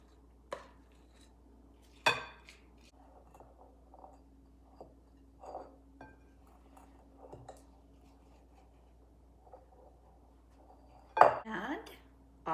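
Flour and cocoa mixture being worked into chocolate cookie dough in a bowl, faint scattered scrapes and soft clinks of a utensil against the bowl, with a louder clattering burst near the end, close in a quiet kitchen.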